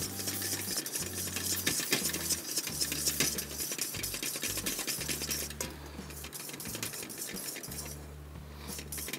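A utensil scrapes and stirs urad dal flour in a pan for halwa, producing repeated metallic scraping strokes in an uneven rhythm alongside a steady low hum, with no voices.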